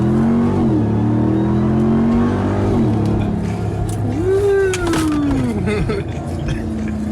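An off-road Baja-style truck accelerates hard with its front end lifting, the engine note climbing and surging in loud, close revs that rise, dip and rise again.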